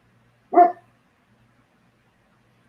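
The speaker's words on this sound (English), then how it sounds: "You got a cat avatar, and I'm hearing a dog." A single short dog bark rings out in otherwise near silence, fairly close and clear.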